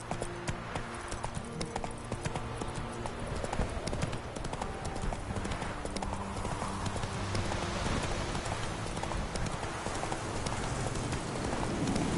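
Roach, the horse in The Witcher 3, gallops with rapid, steady clip-clopping hooves close by, the pounding rhythm continuous throughout over a backdrop of rain-like ambience and game music tones.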